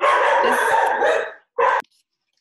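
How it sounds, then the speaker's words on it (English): Several dogs bark excitedly indoors, a loud overlapping burst of yips and barks, a brief pause, then one more short bark before silence. "Sorry about my dogs."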